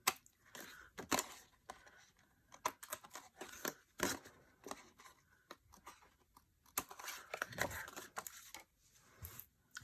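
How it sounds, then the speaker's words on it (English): Scissors snip and trim paper for a handmade card at a crafting desk, a quiet, irregular series of close crisp cuts and light paper rustles with no talking. "So I'm just going to trim this to fit."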